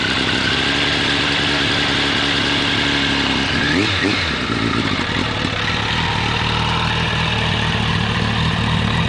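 A 1998 Suzuki Bandit 1200 S fitted with a Yoshimura exhaust idles loudly and steadily up close, with a brief blip of revs partway through, and no other sounds break in.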